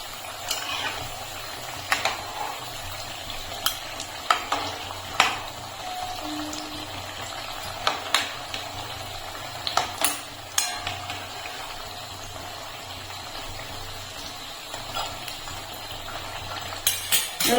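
Spring rolls bubble in hot oil with a continuous frothy sizzle, punctuated by sharp intermittent clicks and taps as they are turned in the pan.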